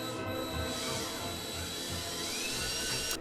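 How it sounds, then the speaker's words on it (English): Holes drilled out in a 3D-printed lamp part with a power drill in a kitchen, a steady high whining hum running continuously and fairly close without breaks, no voices. "it did require drilling out some holes"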